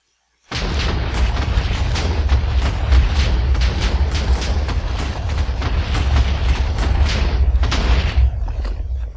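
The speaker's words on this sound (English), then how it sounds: "One little extra explosion at the end, and that's gonna be what happens when to show that the match is finished" A long rumbling explosion in the video game Minecraft marks the end of a match, a loud sustained roar crackling with dense bursts for about eight seconds before cutting off abruptly.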